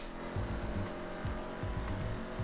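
A car engine revving hard in the racing game GTA Online, a loud steady roar with repeated throttle blips and pitch swings, heard alone without talk.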